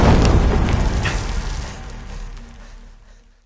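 A C4 charge detonates in a video game, giving one loud deep boom at the start. The blast then rumbles and crackles as it fades away over about three seconds.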